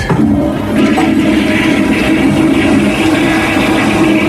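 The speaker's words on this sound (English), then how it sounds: "I flushed it down the toilet." A toilet flushing in a bathroom, a steady rushing gush of water lasting several seconds at even loudness, close and continuous with no speech.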